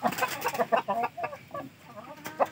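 Fancy chickens, Chinese silkies in breeding pairs, cluck busily and close by in a backyard breeding pen, with rapid overlapping clucks and short calls throughout.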